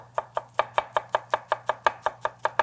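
A chef's knife chops through a leek on a cutting board in a fast, even run of about fourteen crisp thuds, close and alone with no talking.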